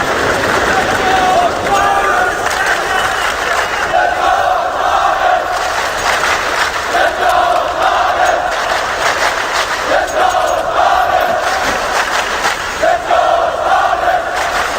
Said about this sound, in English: Great support here from the crowd for Astralis to make this comeback a reality.